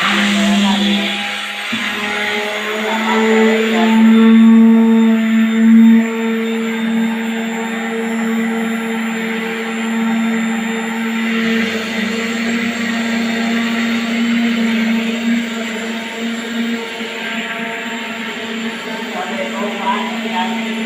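An electric churner or blender whipping collected milk cream into butter at home, a steady loud motor whine with a sustained hum, running continuously alone with only small shifts in pitch and load.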